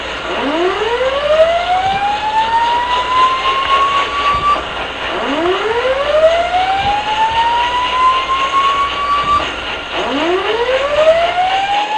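A loud rising electronic whoop from a submarine collision alarm repeats three times, each tone sweeping upward and holding, over a constant low mechanical hum.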